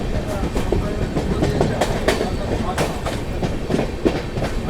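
Train arriving at Panagarh railway station, with rhythmic clickety-clack of wheels over rail joints and a rumbling carriage roar, close and sustained.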